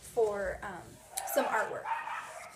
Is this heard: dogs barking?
yes